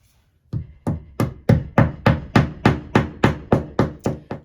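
About a dozen sharp, evenly spaced hammer blows drive wall anchors in for a heated towel rack, each strike close and loud with a quick decay, following a brief quiet start.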